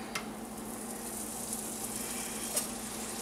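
Butter sizzles faintly under a grilled cheese sandwich in a pan, a soft steady crackle with a couple of brief sharper pops and no talking.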